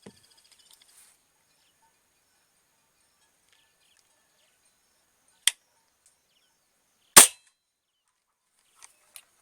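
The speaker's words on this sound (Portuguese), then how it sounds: "Vou efetuar o primeiro disparo. A queima-roupa, tá?" A CBC G2 air rifle fires point-blank into a bar of soap, giving one sharp, sudden crack amid near silence, with a few fainter clicks and taps scattered before and after.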